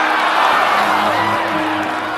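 A dense crowd at a cockfight shouting and cheering together, a loud sustained roar of many voices with no break from start to finish.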